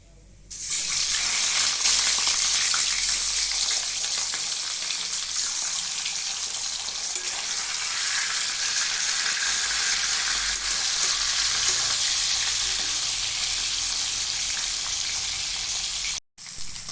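Nadosh fish frying in hot oil, a steady, loud, dense sizzle that holds unbroken for about sixteen seconds before a brief cut near the end.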